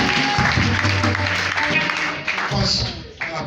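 A congregation applauds in church during a consecration service for an apostle and evangelists, with dense, steady clapping mixed with voices and cheering throughout.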